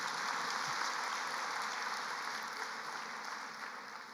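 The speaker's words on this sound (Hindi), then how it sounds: "आपको ताली नहीं बजानी चाहिए अपने लिए।" An audience claps steadily for the whole stretch, a dense, even patter at moderate distance that tapers slightly toward the end, with no voices over it.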